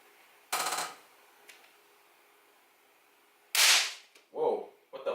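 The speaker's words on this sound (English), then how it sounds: "If I'm right, these MOSFETs will not explode, only the LED will explode." An LED blows apart when a 400V 2000uF capacitor is discharged through it, a sharp loud crack followed seconds later by a bigger bang and short bursts of noise, close by.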